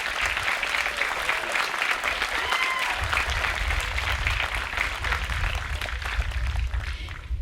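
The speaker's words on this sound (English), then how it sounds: "Let's give them a big round of applause." A graduation crowd applauds a group of students with steady, thick clapping that stays loud and even for the whole stretch, with no pause or fade.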